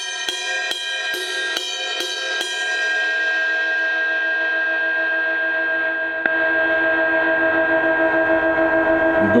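Series of five or six quick strikes on the bell of a 24-inch ride cymbal, bright ringing tones that build into a long sustained shimmer, with one more strike later letting the wash ring on, loud and close.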